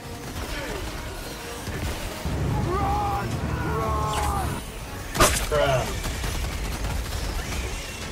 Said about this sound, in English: Rolling grenade!